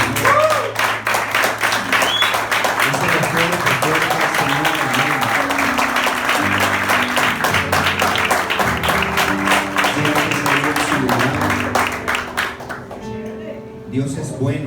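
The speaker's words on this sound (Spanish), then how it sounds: "Denle un aplauso fuerte al Señor." Church congregation applauding loudly and steadily, a dense wash of clapping over organ or keyboard chords and worship music, fading out near the end.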